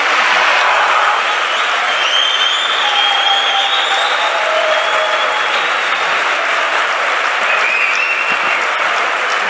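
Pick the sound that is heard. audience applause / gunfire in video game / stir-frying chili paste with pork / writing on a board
audience applause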